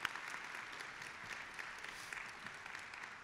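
Faint, distant applause from an evening audience thanking partner organisations at a panel discussion, a steady patter of clapping with a few sharper claps and no speech on top.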